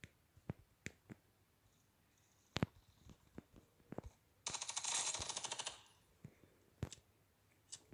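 Gunfire in the mobile shooter Standoff 2: scattered single sharp shots spread across the span, with one dense sustained automatic burst of about a second in the middle, loud and close with no talking.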